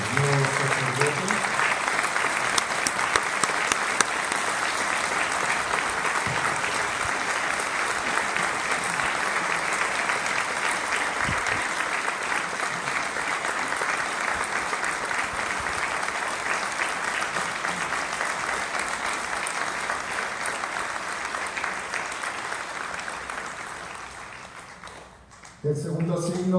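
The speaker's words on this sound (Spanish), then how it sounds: "Un aplauso para los nuevos sacerdotes." A congregation at a priestly ordination Mass applauds the newly ordained priests, a long, sustained wash of clapping that fills the church before fading out near the end, when a voice briefly begins speaking.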